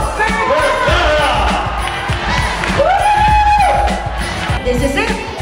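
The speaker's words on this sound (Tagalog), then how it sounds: "Round of applause to Mr. Jose Andrew Vergara!" Crowd noise rises at an office Christmas party as a round of applause goes up, mixed with cheers, whoops and overlapping voices, loud and continuous throughout.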